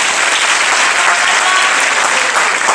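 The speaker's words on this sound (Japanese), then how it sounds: "ご協力いただける方、拍手いただけますでしょうか？" A lecture-hall audience at a special talk breaks into loud, dense applause that holds steady and full for the whole stretch without letting up.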